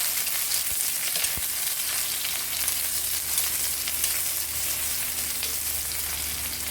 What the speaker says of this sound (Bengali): আমরা এখন এটার মধ্যে একটু তেল দিব, দিয়ে পেঁয়াজটা একটু ভেজে নেব